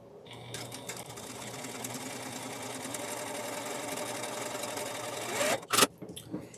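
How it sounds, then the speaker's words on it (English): A sewing machine runs continuously, sewing a traditional quilt block just behind a drawn line, loud and close, before stopping with a few clicks and handling sounds. "we're going to sew again just behind the line that we've drawn on."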